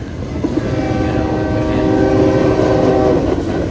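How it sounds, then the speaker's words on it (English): A train rolls past outside a restaurant near a station, a steady loud rumble with tonal horn-like hum and clickety-clack of wheels sustained throughout, with no talking. "Here comes the train"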